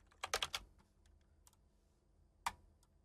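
Quick bursts of computer keyboard typing while a file is renamed: a rapid cluster of clicking keystrokes, a couple of isolated taps, then one final sharp keypress, close and crisp over a quiet background.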